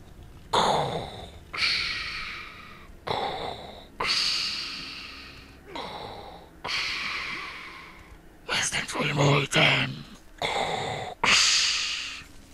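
Slow, rasping breaths made by a voice imitating Darth Vader's respirator, about eight close, loud inhale-exhale bursts in a steady rhythm with short gaps, heard alone.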